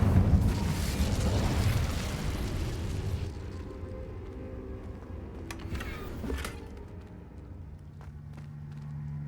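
Incendio fire spell cast in Hogwarts Legacy: a loud fiery burst that roars for a few seconds and then trails off into a softer crackling rumble, with no talking.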